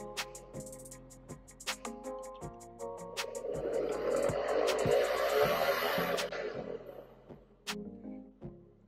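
A TROGLOTREK portable pipe robot steering while its motorized cable drum winds, a whirring motor hum that swells in the middle, with intermittent clicks and clunks before and after.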